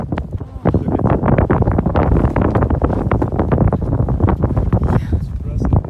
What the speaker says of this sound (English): The wind, the most destructive power of an avalanche.